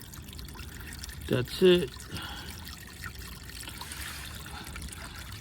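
Coolant trickles and pours out of the opened radiator drain valve on a 1999 Mercedes E55 AMG W210, a soft liquid stream running underneath someone talking.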